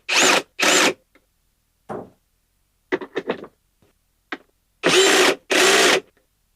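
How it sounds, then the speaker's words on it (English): Several short bursts of a power tool driving down the lugs on battery cables, each a loud whir of under a second, with quieter clicks and handling noises between them. "Now we'll go ahead and tighten those lugs down."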